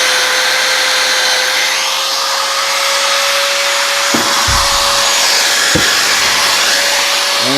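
A cheap Harbor Freight hand drill, locked on, runs loudly and steadily while polishing a vintage road bike rim, with a constant high motor whine and broadband hiss and two short knocks near the end.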